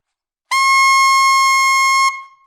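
A saxophone altissimo note played with a dedicated altissimo embouchure, entering sharply and holding bright and powerful for about a second and a half before cutting off with a short ring.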